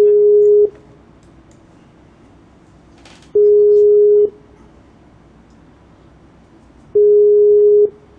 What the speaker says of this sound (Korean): 이국이 형님 왜 전화 안 받아